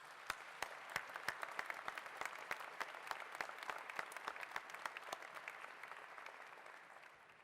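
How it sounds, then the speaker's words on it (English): A university commencement audience applauds special guests, with sharp, distinct individual claps standing out over a soft, spread-out patter that fades gradually. "Please join me in applauding these special guests."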